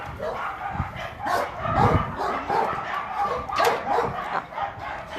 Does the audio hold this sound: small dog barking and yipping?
yes